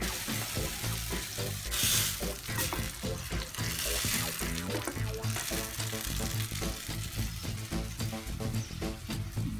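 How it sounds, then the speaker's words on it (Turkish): Tomatoes sizzle as they go into a frying pan with garlic for homemade pizza sauce, a loud continuous crackling fry with some stirring and clinking throughout. "Beş saniye sonra domatesi atıyoruz."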